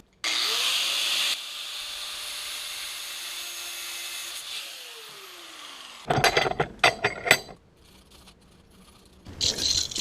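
Power tool cutting through a bolt in a home garage during fuel line work on a classic Porsche 924S, heard as a loud, steady grinding whine for the first seconds, then a long quieter hum, followed by several sharp bursts of clattering noise near the end.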